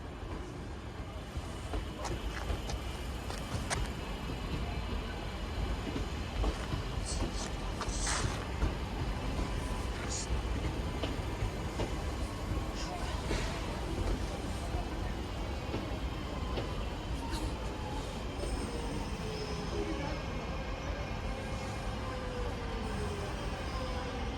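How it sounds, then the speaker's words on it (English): Class 323 electric unit 323-241, formerly with West Midlands Railway, arriving at Stoke-on-Trent from Manchester Piccadilly, its soft hum and wheel squeals heard over steady station ambience with voices. "(323) terminating now from Manchester Piccadilly. It is former West Midlands Railway unit 323-241."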